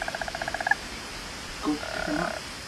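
A frog calling in What Remains of Edith Finch, opening with a quick rhythmic string of about a dozen pulsed croaks, then after a pause a longer, lower croak, faint against quiet ambience.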